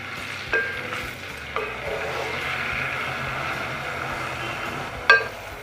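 Chopped onions hitting hot melted butter in a pan give a soft, continuous sizzle, broken by a few light clinks of a utensil against the pan, with no voices.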